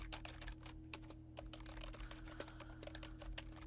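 Rapid typing on a computer keyboard, with dense, irregular key clicks at a steady pace throughout, quiet and close over a faint electrical hum, with no talking.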